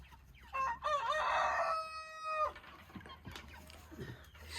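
A rooster crows once at morning from a village coop, loud and near, then faint clucking and farmyard sounds follow with no talk.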